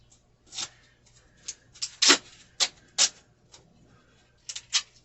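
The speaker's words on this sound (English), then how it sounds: "All I gotta do now is tape it." Old duct tape being pulled and pressed onto a camp trailer while it is winterized in rural Nevada, heard as a string of sharp, crackly tearing and rustling bursts at irregular intervals, close and fairly loud against a quiet background.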